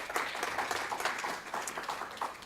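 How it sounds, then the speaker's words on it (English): An audience at a teaching summit applauds panelists being welcomed, a fairly faint, steady patter of many hands clapping heard from a distance. "Let's give them a round of applause."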